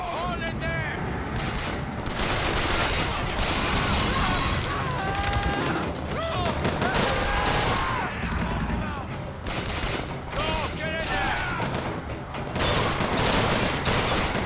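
Dense gunfire and battle noise from the shooter game Bioshock Infinite, with a steady barrage of shots, mechanical clatter and explosions running continuously and loudly throughout.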